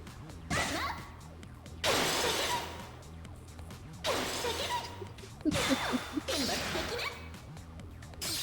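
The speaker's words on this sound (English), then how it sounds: "Just the sound of her mirror shattering on somebody." Glassy mirror shatters from the Fate/Extra CCC video game come in several sharp crashing bursts with swishing tails, spaced a second or two apart, loud and close over a low background hum.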